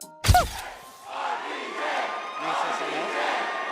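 A crowd of comic book fans erupts into loud chaotic screaming and shouting at a surprise appearance by Robert Downey Jr. in a Doom mask, beginning with a sharp burst and then a sustained roar of many voices.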